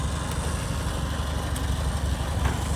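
A tractor engine idles close by with a steady low rumble and rapid pulsing throb, unbroken throughout, with faint higher clicks on top.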